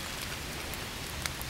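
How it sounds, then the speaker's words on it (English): Steady rain falls at a creek on a May morning, a dense, even patter of drops that fills the whole scene with no breaks, close and constant, with no voices. "it's pretty well rained on us the whole time"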